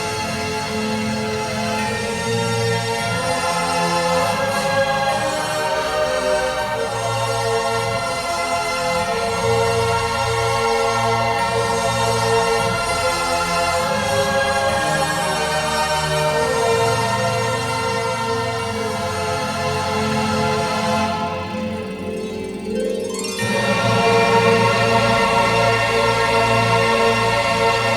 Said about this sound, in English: You hear the woodwind melody intertwining with the brass. It's a really big, full sound.